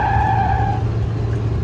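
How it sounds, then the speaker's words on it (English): A car's tires screech sharply as it turns a corner at speed, a loud squeal that fades over a steady engine rumble. "The tires on her car screeched as she turned."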